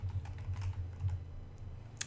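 Rapid, uneven clatter of typing on a non-European computer keyboard, a string of close, light key taps with a sharper click near the end over a low steady hum.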